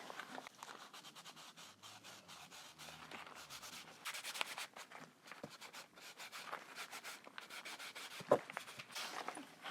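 Cloth rubbed briskly over a light pine board freshly coated in sealant, wiping off the excess; a soft, steady scrubbing texture runs throughout at low volume, with one sharper knock near the end.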